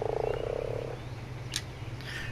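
A frog croaks in ARK: Survival Evolved: a quick pulsing series of croaks at the start, then a brief high chirp and a faint sound later, with no talk over it.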